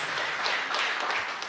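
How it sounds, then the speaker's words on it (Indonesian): Church congregation applauding and cheering for Jesus during a sermon on fasting, a broad, steady wash of clapping that fills the whole short stretch at moderate loudness, no voice on top. "yang mau tepuk tangan yang meriah bagi Tuhan Yesus"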